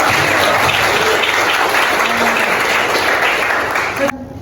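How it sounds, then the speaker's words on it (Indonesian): Classroom applause from high school students, a dense steady patter of clapping lasting about four seconds before cutting off abruptly, with a voice faintly present underneath. "Oh, bagus, tepuk tangan dulu."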